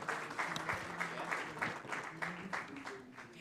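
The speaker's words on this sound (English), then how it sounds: "Round of applause for her." Applause from the audience at the Commonwealth People's Forum opening ceremony greets a speaker taking the stage, sounding as steady, fairly faint clapping heard from a distance with some speech over it.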